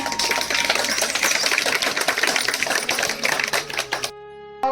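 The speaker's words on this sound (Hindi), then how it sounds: "जोरदार तालियां बजाने के लिए।" Loud, dense clapping rings out for a prize winner at an Ambedkar Jayanti competition, a rapid crackle of many hands that stops abruptly near the end, leaving a brief quieter tail.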